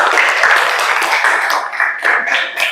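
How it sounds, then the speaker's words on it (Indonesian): Classroom clapping from a group of students, a dense, steady patter of many hands sustained for a few seconds, fairly loud and close, with a slight dip near the end before picking up again. "Tepuk tangan."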